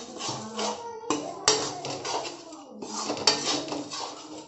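Besan barfi mixture being stirred in a pan, with repeated scraping and clinking of a utensil against the metal in uneven bursts, close and fairly loud, with no talk.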